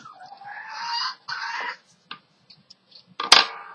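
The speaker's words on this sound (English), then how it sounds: "excuse my birds" Pet birds in a room give scattered clucking calls in short bursts, then a louder, sharper squawk near the end, with quiet gaps between.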